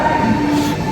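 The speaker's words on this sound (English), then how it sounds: "Okay, so I'm getting on the train." A train at a Moscow station gives off a steady loud rumble with a sustained tonal whine, heard close and continuous for a moment.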